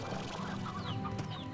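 Chickens clucking in the video game Slime Rancher, a short close burst of overlapping clucks and soft chirps with no talk.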